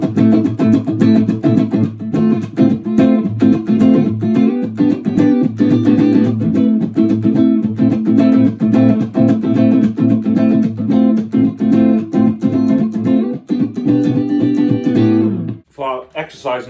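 Funk electric guitar plays a fragmented chord progression on three strings, with steady, dense, loud strumming that stops abruptly near the end.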